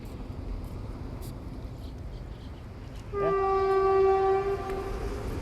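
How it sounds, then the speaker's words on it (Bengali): A train rumbles past at dusk with a steady, close roar, and partway through its horn blares a loud, sustained blast for about a second before the rumble carries on. "একটা ট্রেন আসছে।"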